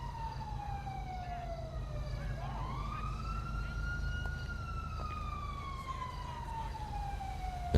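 A police siren in the game GTA 5 wails, sweeping slowly up and down in pitch over a steady low rumble, sounding a short distance off.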